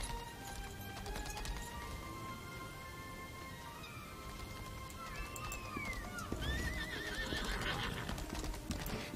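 In the video game Lost Ark, a horse neighs and its hooves clip-clop under a low ambient music bed, the whinny rising clearly near the middle before hoofbeats and movement pick up toward the end.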